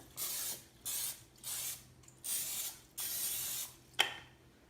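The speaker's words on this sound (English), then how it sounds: "I usually spray my pan" Several short hissing bursts of aerosol cooking oil sprayed onto a pan in a steady rhythm, close and fairly loud, ending with a faint tap.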